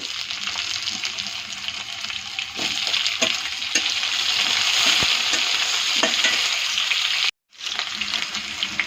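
Potatoes frying with ginger in a hot pan, a steady close sizzle with scattered stirring clicks and scrapes, briefly cutting out near the end before resuming.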